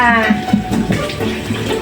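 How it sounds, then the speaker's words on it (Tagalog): Tap water runs steadily into a basin to soak vegetables for cooking, close and fairly loud, with a voice talking over it. "Kailangan natin ibabad ng matagal sa tubig ang ating lulutuing gulay."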